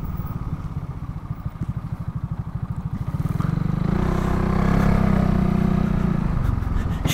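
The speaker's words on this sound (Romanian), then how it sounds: "Deși are un motor de 500 de centimetri, nu accelerează așa tare" A Piaggio MP3 500 three-wheeled scooter with a 500 cc engine putters at idle, then revs up and accelerates steadily, its rumble growing louder and rougher before easing off slightly.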